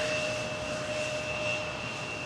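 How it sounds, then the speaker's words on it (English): An Air France Embraer 170 jet arrives at Amsterdam Schiphol, its engines giving a steady, fairly distant roar with a faint whine through the whole short stretch. "Embraer 170 arriving from Marseille."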